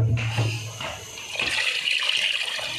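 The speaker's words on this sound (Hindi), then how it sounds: "ये जनाब इसमें मैंने 2 जग पानी के डाल दिए" Two jugs of water are poured into a pot of mutton trotters (paya), a steady rushing, splashing gush that shifts as the pour continues, close and fairly loud, with no talking.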